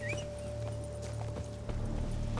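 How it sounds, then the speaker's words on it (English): A horse gallops in The Witcher 3: Blood and Wine, its hoofbeats a quick, even clip-clop at moderate distance over a faint steady hum, with no talking. "Hey, where the fuck is my horse?"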